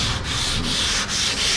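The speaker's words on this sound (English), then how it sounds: "let's get sanding. I'm using 220 on this sand" Sandpaper of 220 grit is rubbed back and forth over a surface in steady close strokes, a continuous gritty scratching with a few brief dips between passes.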